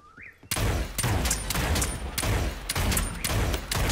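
Rapid bursts of gunfire in the battle royale video game Realm Royale, starting after a brief quiet moment and continuing loud and dense for several seconds, with repeated sharp volleys close by.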